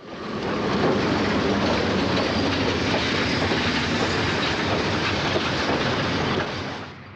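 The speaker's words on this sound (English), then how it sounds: "a 2-car train of stainless steel bilevels is being pushed into" A two-car Rock Island commuter train of stainless steel bilevel cars, pushed by an FP7A locomotive, rushes past up close at Oak Forest near Chicago: a loud, steady roar of wheels with clickety-clack that swells in and tapers off.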